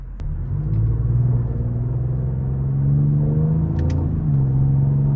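Steady low rumble of a 2025 Ford Explorer ST twin-turbo V6 on the road, heard from inside with a smooth engine drone that swells slightly, no voices.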